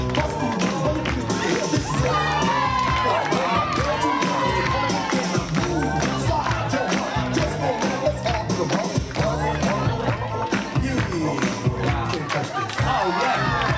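A crowd of children cheers, claps and screams loudly and continuously in a busy indoor hall, excited shouts and overlapping voices filling the whole stretch.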